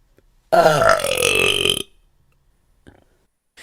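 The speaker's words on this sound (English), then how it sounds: "The monster burped." A single loud, long, deep monster belch, close up, followed by quiet with a couple of faint small noises.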